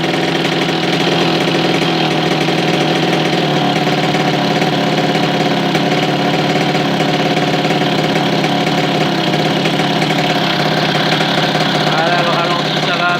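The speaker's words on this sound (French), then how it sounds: "Voilà, le ralenti ça va à peu près." Car engine idling steadily after its idle speed has been adjusted, a loud, even, continuous rumble with a slight mechanical knock, heard up close throughout.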